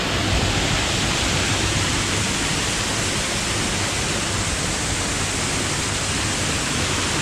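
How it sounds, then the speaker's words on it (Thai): Romklao Pharadorn waterfall in Phetchabun, Thailand, pours with a steady, loud broadband roar that never lets up. No voices can be heard over the rushing water. "เป็นน้ำตกที่สวย"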